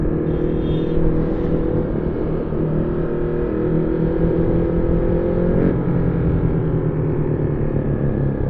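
A jeep goes by on a mountain highway with a sustained engine drone and whirring tires. Its pitch holds and then drops partway through as the vehicle passes close by.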